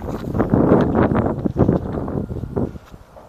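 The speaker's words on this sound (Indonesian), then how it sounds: "Anginnya gede loh guys" Strong wind buffets across open rice fields under an overcast morning sky, roaring loudly and steadily with gusty rumbling surges close to the microphone.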